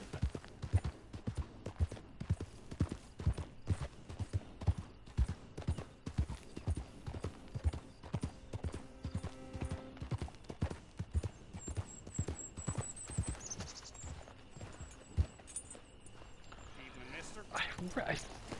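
Horse hooves clip-clop steadily in the online western video game Red Dead Redemption 2, a brisk, even rhythm of hoofbeats throughout, with a few quiet music notes and faint other game sounds behind.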